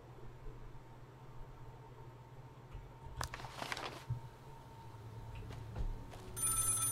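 Telephone ringing inside the horror video game Maid of Sker, a faint bell tone over steady ambient game hum with a brief noisy burst partway through and a brighter electronic ring at the end.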